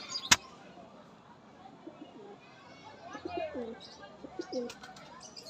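Pigeons coo softly in a loft at Bagnan Kacharipara, a few quiet, low rolling coos in the latter half over faint background, with a sharp click near the start.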